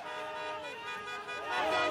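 Car horns honking on the Champs-Élysées during a street celebration, several tooting horns overlapping against crowd and traffic noise, fairly distant and rising toward the end.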